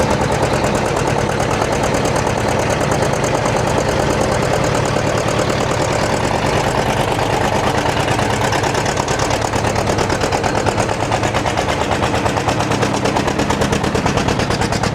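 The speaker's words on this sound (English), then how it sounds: "I guess this is how you go green when you've got a John Deere 2-cylinder diesel." A John Deere two-cylinder diesel tractor runs loud and close, its engine beating in a steady, rapid, uneven two-cylinder rhythm without pause for fifteen seconds.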